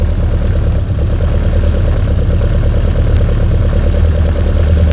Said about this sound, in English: I'm listening for the change of tone in the engine.